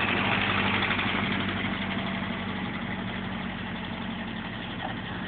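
A 1965 Jeep CJ5, a garage find with 40k miles, idles nearby with a steady low rumble and even throb, loud and unbroken, fading slightly toward the end.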